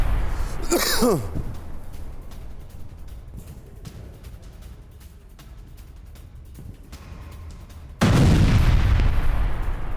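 Airstrike explosions in news footage: a sharp blast with a falling whistle-like tail, then low distant rumbling, and a heavy loud boom that erupts near the end and keeps roaring.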